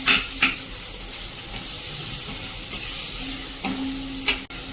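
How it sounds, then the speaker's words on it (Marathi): Finely chopped onion sautés in oil with garlic and asafoetida, giving a steady moderate sizzle broken by a few sharp clinks and stirring scrapes of a spoon against the pan. "कांदा व्यवस्थित परतून घ्यायचा"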